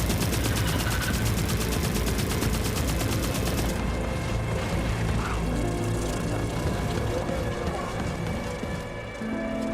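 Sustained, dense gunfire and battle noise in The Forever Winter video game, continuous and loud throughout with a faint voice underneath.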